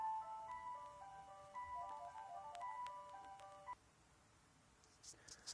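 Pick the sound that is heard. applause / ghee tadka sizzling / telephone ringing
telephone ringing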